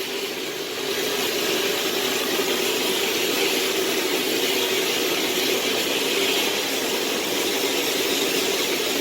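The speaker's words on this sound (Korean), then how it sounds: "공회전을 유지하십시오." A 2013 Kia Grand Carnival diesel engine idles steadily with a loud, even hum and a persistent high whine over it, without talk.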